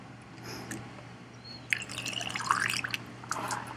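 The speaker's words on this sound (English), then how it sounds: "Let me get some water." Drinking water is poured at a seminar on the Big Island of Hawaii, a trickling, splashing stream that builds in the second half, fairly close and with no talk over it.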